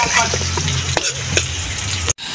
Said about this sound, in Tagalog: Okay, magigisa na po tayo. Maglalagay po tayo sa ating bawang.